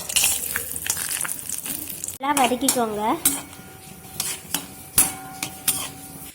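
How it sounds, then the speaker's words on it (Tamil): Cashews fry in a little ghee in a pan while a spoon stirs them, giving close clinks and scrapes against the metal over a faint sizzle. "கொஞ்சமாக நெய் சேர்த்துக்கோங்க. இல்லையே கொஞ்சம் முந்திரி போட்டு வதக்கிக்கோங்க."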